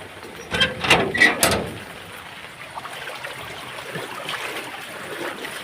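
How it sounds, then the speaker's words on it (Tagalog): Floodwater runs along a street in the rain with a steady, soft trickling rush, after a few louder splashing sloshes at the start. "Dito po sa may baha po."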